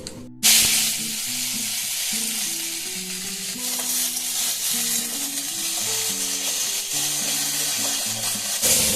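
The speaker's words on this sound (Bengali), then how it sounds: "এই আলুগুলোকে দিয়ে দেবো এখন তেলে দিয়ে খুব লাল করে বেশ ভেজে নেবো" Diced potatoes fry steadily in hot oil, a continuous close sizzle and crackle running from start to end, with a faint tonal hum underneath and no talking.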